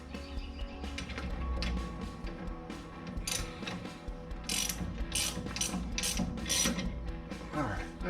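Ratchet clicking as bolts are snugged up on the suspension of a Plymouth Cuda during a Hotchkis TVS install, rapid bursts of metallic ticks growing sharper toward the end over a low garage hum.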